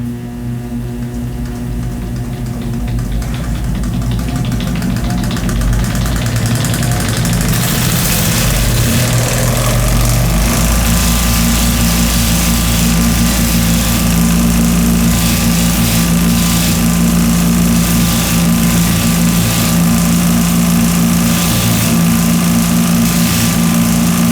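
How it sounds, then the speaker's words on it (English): A multi-tool club refinishing machine runs continuously with its finishing wheel spinning, producing a loud, steady motor hum and whir that grows fuller after a few seconds, with no talk. "I'm going to stop and go to my final finishing wheel"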